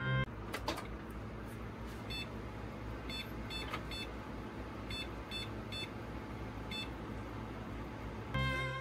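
Error beeps from an HP Pavilion XV880 desktop computer: a series of short, high, evenly spaced electronic tones repeating in groups over a steady fan hum, with no one speaking.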